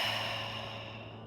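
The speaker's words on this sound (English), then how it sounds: "really exhaling, that real cleansing breath from your mouth" A long, exaggerated cleansing exhale pushed out through the mouth during a pelvic floor breathing exercise, a close, breathy rush that slowly fades over about a second, with no talk.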